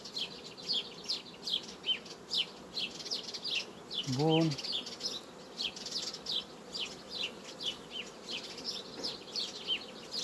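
Honey bees in an open hive around a red queen, a continuous close buzzing with pulsing swells, broken briefly by a short rising chirpy tone midway and a few spoken words.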